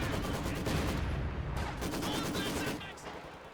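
Machine gun fire from a real-time strategy battle, a dense continuous rattle of shots that holds steady and then tapers off near the end, with voice under the combat noise.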